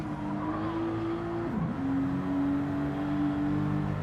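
An RC Toyota Supra skids on a track at night, a thin, sustained whining tire squeal over a steady motor drone, with a brief dip in pitch midway.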